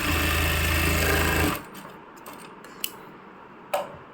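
A sewing machine runs loud and steady, stitching a folded fabric strip for a small Laddu Gopal summer dress, then stops abruptly, leaving a quiet room with a couple of faint clicks.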